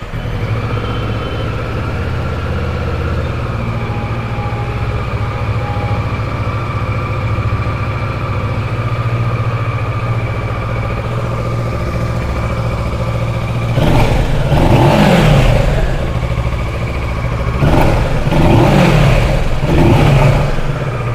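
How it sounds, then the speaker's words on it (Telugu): A Kawasaki twin-cylinder motorcycle engine idles steadily with a low throbbing hum, then revs up sharply several times near the end, loud and close. "ఇప్పుడు బైక్ స్టార్ట్ చేద్దాం"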